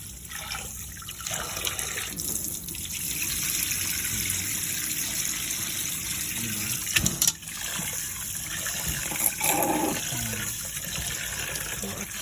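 Water from a tap runs steadily into a kitchen sink, a continuous close hiss and gush with a few brief splashes and clunks partway through.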